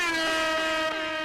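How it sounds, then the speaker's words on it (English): A loud, steady air horn blast holds one bright, buzzy tone with rich harmonics for over a second, played alone as a sound effect. "I'll give you an air horn for that"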